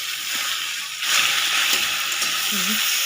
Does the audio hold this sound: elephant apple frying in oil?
yes